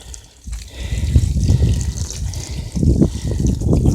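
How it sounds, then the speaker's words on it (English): Water splashing and trickling steadily over a car headlight being restored with toothpaste, a close, continuous rinse with small gushes and drips and no talking. "rinse this bad boy off."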